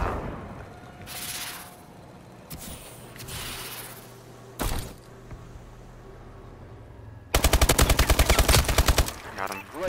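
Rapid automatic gunfire in a first-person shooter match, a dense burst of loud shots near the end preceded by scattered single bangs and a thud, over ambient game noise with some speech.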